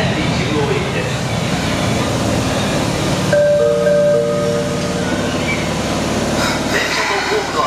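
Osaka Metro Midosuji Line 10 series subway train, unrenovated set, pulling into a station with a steady rolling rumble and rising motor whine, platform announcements and chatter over the top.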